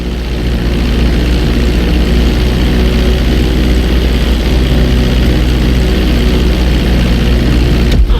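A propeller plane taxis along a runway in Grand Theft Auto 5, its engine droning at a steady idle from start to finish, loud and close with no talk.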